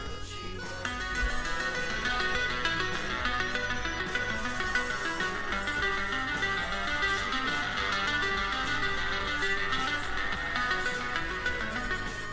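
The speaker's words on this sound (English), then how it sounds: "It's like a keyboard and a bunch of synthesizer stuff." Synthesizer app with a keyboard playing layered synth sounds, a steady, dense chord-like texture with a sustained melodic line, fairly quiet and continuous throughout with no talking.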